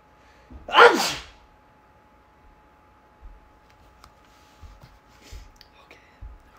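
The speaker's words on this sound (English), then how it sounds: "Oh, I got a sneeze coming." A single sharp, loud sneeze bursts out close to the microphone near the start, followed by quiet room stillness with a few faint small clicks and movements.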